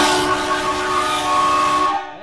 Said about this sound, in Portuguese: Buzina forte no Honda City.